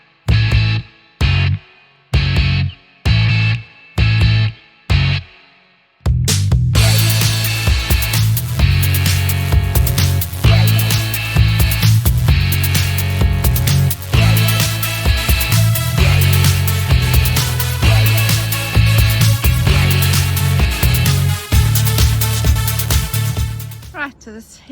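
Powered hedge trimmer buzzing through a plumbago hedge, starting in several short bursts and then running steadily loud and close for a long stretch.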